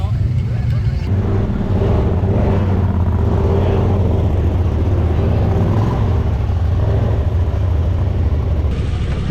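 An off-road vehicle revving hard through a mud hole at a mud park event, its loud, sustained engine roar dominating throughout, with voices talking underneath.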